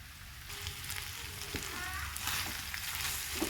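Chicken frying in a pan gives a steady close-up sizzle, with occasional stirring scrapes and soft clinks layered over it.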